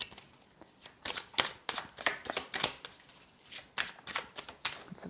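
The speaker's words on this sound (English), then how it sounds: "I'm gonna shuffle here." Tarot cards are shuffled close by in quick, crisp riffling bursts, several separate shuffles following one another at an uneven rhythm in a quiet room.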